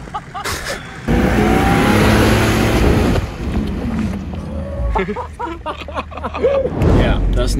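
A car revs its engine while spinning on loose gravel beside a pond, a loud sustained roar with crunching stones for about two seconds, then rougher bursts and scattered noise as it winds down.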